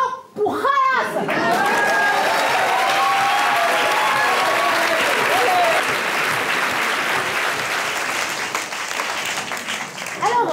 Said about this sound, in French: Je vous demande d'accueillir sous des milliards d'applaudissements Bernardo Pujadas